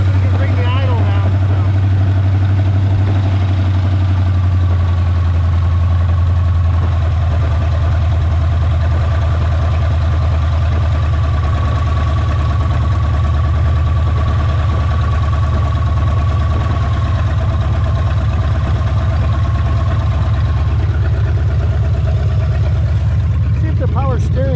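A 1970.5 Ford Falcon engine idles steadily just after its first start, a continuous low rumble that stays close and even throughout, with a voice occasionally audible over it.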